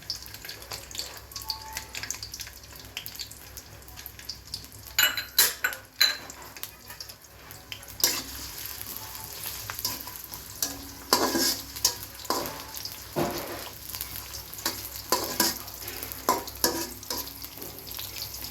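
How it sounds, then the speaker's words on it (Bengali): Onion frying in mustard oil, a continuous close sizzle broken by frequent metallic scraping and clinking of a spatula against the pan over a long stretch, with no speech. "পেঁয়াজটা এখন ভাজবো লাল লাল করে।"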